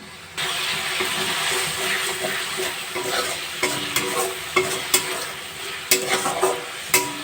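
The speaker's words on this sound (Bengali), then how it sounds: "মশলাটা ভালো করে কষিয়ে নেব যতক্ষণ পর্যন্ত মশলার থেকে তেল না বেরোচ্ছে" Masala with salt and Kashmiri chilli powder is sautéed in oil in a pan, a loud continuous sizzle punctuated by sharp, irregular scrapes and taps of the stirring spoon.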